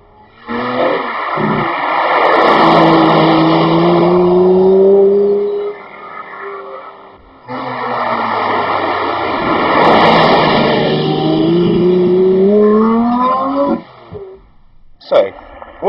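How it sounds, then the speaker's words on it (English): A Lamborghini Reventon supercar engine roars loudly in two long sustained passes, its pitch rising as it accelerates, with a brief gap between them and a short clatter at the end. "when you are driving on the road in your Lamborghini Reventon"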